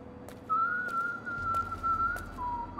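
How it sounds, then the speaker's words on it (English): A guard on patrol in the stealth video game Dishonored whistles a steady, sustained tune, clear and fairly close, with no talking over it. "Should I interrupt him mid-whistling?"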